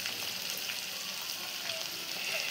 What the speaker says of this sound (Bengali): এখন দিয়ে দেবো পেঁয়াজ কুচিগুলো ভাজা, একটু স্লাইড ভাজবো।